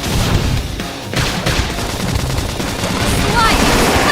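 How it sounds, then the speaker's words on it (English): Flame grenade attack in the video game Xenoblade Chronicles X, a dense, loud burst of crackling blasts and rumbling impacts that carries on steadily for several seconds amid other battle noise. "Flame grenade!"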